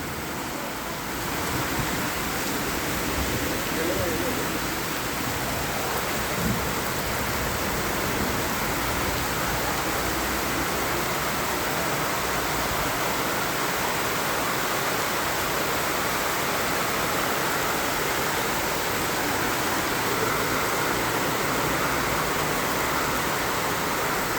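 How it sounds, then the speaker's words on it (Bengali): Heavy rain pours steadily over a road, a dense, unbroken wash of hiss and patter that stays loud and even throughout with no voices. "বৃষ্টি আওয়াজটা হচ্ছে কেমন দেখতে পাচ্ছ, সমানে আওয়াজ হচ্ছে, ফনসন করে বৃষ্টিটা পড়ছে।"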